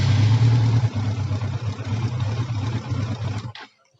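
A 2000 Yamaha R1 motorcycle engine spun over by a fitted CBR600 starter motor, a steady loud whirring crank lasting about three and a half seconds before cutting off abruptly, heard close up with no talk.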